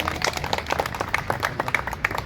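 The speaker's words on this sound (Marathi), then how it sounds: "त्याकरता तुमच्या सर्वांसाठी टाळ्या झाल्याच पाहिजे." Scattered clapping from an audience at a Babasaheb Ambedkar Jayanti celebration held by a badminton group, a thin patter of individual claps heard at moderate distance.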